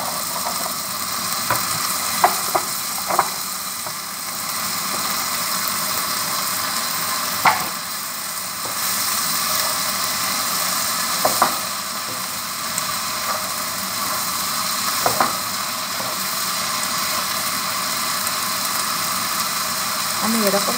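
Onion stalks frying and stirred with fried potatoes in a pan for a prawn and onion-stalk charchori, a continuous sizzle broken by scattered scraping clicks of the spatula.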